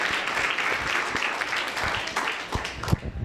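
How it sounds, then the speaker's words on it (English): An audience at a university debate on water rights applauds a guest speaker: steady, dense clapping from many hands that holds evenly throughout, close and fairly loud with scattered sharper claps near the end. "let's get one more round of applause for Dr. Whitaker for coming out."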